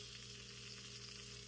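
Ravioli fry in a pan with a soft, steady sizzle and crackle, close and quiet, with no talking.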